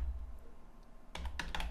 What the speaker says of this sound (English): but let's type it in, it's no big deal.